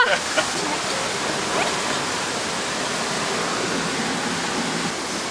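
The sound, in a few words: cave waterfall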